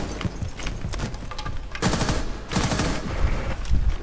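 Rapid automatic gunfire in Rainbow Six Siege, loud and close, coming in dense repeated bursts that run through nearly the whole stretch with brief gaps between volleys.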